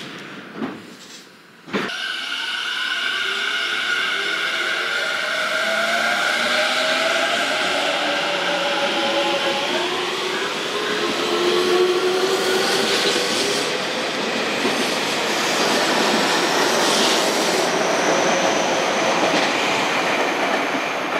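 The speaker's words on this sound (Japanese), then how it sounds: "2番線には普通池袋駅が到着です" Tobu 50000 series local train number 51005 pulls into Yanasegawa station with a loud, steady rolling rumble and rising metallic wheel squeal, following a brief sharp thump at the start.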